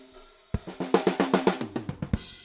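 Drum kit picked up by a Shure SM7 mic hung just above the kick drum and aimed at the snare, in a home studio: after a quiet start, a run of about a dozen sharp, punchy hits in a steady rhythm, close and loud.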